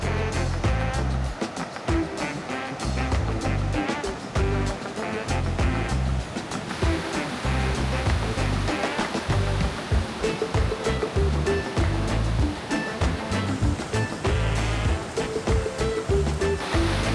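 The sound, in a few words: ocean waves at Playa Ventanas beach, Costa Rica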